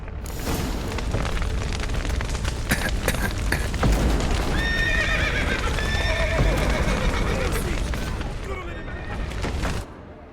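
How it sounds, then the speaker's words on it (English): In The Witcher 3: Wild Hunt, horses whinny and neigh repeatedly over a dense, rumbling wash of hooves and crashing noise as a roof collapses, with voices shouting underneath; loud and chaotic throughout. "The horses!"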